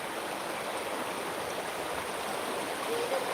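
Rainwater overflows a pond edge in a constant, full roar, like a small waterfall, close and steady with no pauses.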